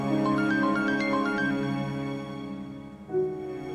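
A melodic electronic phone ringtone plays a repeating tune, then fades out before a short tone near the end; no voices.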